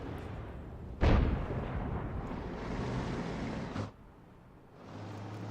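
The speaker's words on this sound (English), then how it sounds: "So it looks like the other Arty are also firing at him." Object 261 artillery in World of Tanks fires a single loud, deep boom that rolls on as a long rumbling tail for several seconds before fading into quieter background noise.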